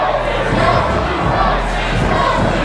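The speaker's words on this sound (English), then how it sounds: "The crowd getting behind Del Bruno" A wrestling crowd in a hall in Toronto cheers and shouts loudly and steadily for a favourite during a live independent show, a dense unbroken roar filling the space.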